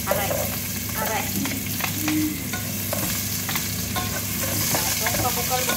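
Onions sautéing in hot oil in a pan for pancit, a steady close sizzle with scraping stir strokes running throughout, no talk.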